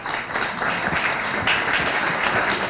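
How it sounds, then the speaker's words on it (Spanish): An audience at a book presentation breaks into a burst of applause, with loud, steady clapping from a crowd and a few voices faintly mixed in. "Un fuerte aplauso."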